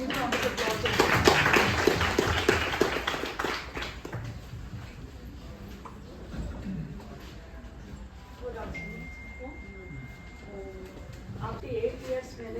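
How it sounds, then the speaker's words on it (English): Guests at a retirement function give a round of applause, a few seconds of lively clapping that fades into scattered claps, room murmur and talking. "We would now give a round of applause."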